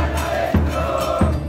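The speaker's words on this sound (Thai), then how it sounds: "น่าจะเป็นเพลงเชียร์ประจำของทีมชาติอาร์เจนตินาแล้วนะครับ" Argentine football fans from Colón of Santa Fe chanting a team song at the World Cup, a dense crowd roar with rhythmic pulses, close and loud, no clear single voice.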